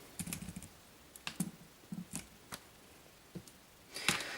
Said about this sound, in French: on peut voir que donc je tape donc avec le clavier